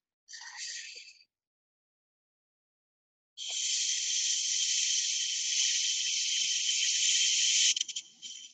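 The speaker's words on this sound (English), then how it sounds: "I'm going to put a shushing sound to it." A short breathy hiss, a pause, then a long steady shushing exhale lasting several seconds, close and fairly soft, with no talking.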